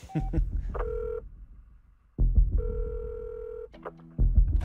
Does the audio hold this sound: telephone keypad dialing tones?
yes